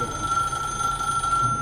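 A telephone rings steadily in a quiet station, the bell-like tone sustained and moderately loud with no voices.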